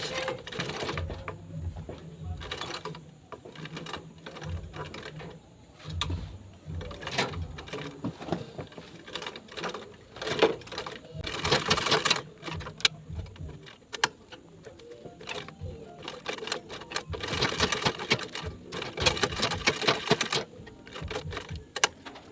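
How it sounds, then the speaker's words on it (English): A sewing machine stitches along the edge of a bag flap for the Olivia bag, running in bursts of rapid mechanical chatter broken by short pauses and clicks, close and moderately loud, with no talking. "So now I'm going to start sewing from this angle."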